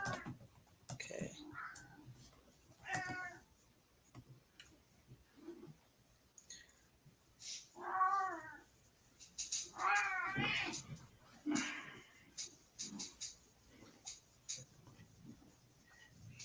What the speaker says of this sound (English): Anthony's cat.